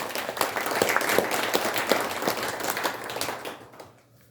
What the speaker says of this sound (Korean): 다시 한번 오늘의 주인공 김대남 선생님의 따님 김희정 여사님께 큰 박수 부탁드립니다